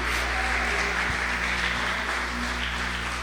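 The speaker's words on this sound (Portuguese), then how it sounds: "Aplauda Jesus, Jesus Cristo vivo, Jesus Cristo ressuscitado" A church congregation applauds during a worship service, a continuous dense wash of clapping from many hands over a low steady hum, without a break.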